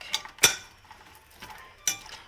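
A few sharp metallic clinks and scrapes of a fork against a frying pan of onions and garlic, sparse and close, with quiet gaps between strikes.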